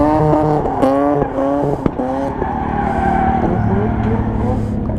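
A car drifts around a corner, its tires squealing loudly in long wavering pitched screeches over a steady engine roar, close and continuous with one sharp knock midway.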